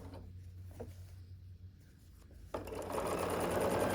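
Sewing machine stitching seams on scrappy sawtooth star quilt blocks: quiet handling clicks at first, then a fast steady whirring run starts partway and continues to the end, close by.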